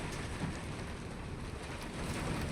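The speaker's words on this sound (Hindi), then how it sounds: "बहुत बारिश, ज़बरदस्त बारिश हो रहा है भाई।" Heavy rain pounding at a coal mine, heard from inside a vehicle cab: a loud, unbroken roaring wash of downpour with no pauses.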